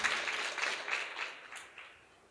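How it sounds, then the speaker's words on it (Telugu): A church congregation claps loudly in praise during a Christmas sermon, a dense burst of steady applause that slowly thins and fades over a couple of seconds. "నమ్మితే గట్టిగా చప్పట్లు కొడుతూ దేవుని మహిమపడతాం."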